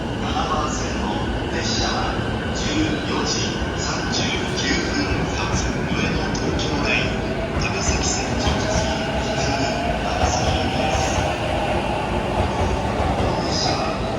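Continuous rumble and rush of a Shinkansen bullet train in motion between Kyoto and Tokyo, heard from inside a carriage, with faint clicks and occasional high squeals over the steady noise.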